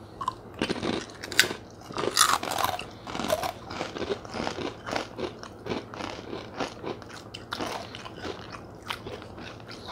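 Someone bites into and chews a crunchy fried South Korean rice cake snack, producing loud, close crackling crunches in an irregular rhythm.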